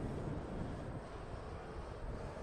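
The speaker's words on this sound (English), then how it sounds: "Lufthansa is coming now, second in landing sequence. It's a Boeing 747-400." A Lufthansa Boeing 747-400 descends to land at Toronto Pearson Airport, heard as a faint, distant, continuous jet roar with no break.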